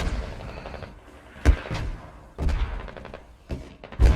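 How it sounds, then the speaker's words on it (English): Mortar rounds fire in a military shooter game, several heavy thumping launches and booms scattered irregularly across the stretch, each a deep punch with a short rumbling tail. "Throw 3 more mortars and then we will push in."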